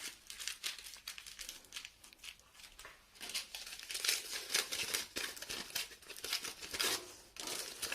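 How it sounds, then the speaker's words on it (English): Tin foil being scrunched into a ball by hand, close and continuous: dense crackling and crinkling throughout, growing louder midway, with no voices. "by scrunching up some tin foil"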